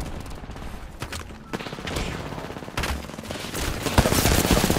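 Players trade gunfire in the video game Apex Legends, with rapid bursts of automatic fire and repeated sharp shots crackling close and loud through a busy firefight.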